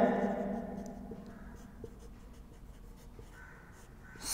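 Chalk scratching across a board during a physics class, a soft continuous scraping with small taps under low room hum.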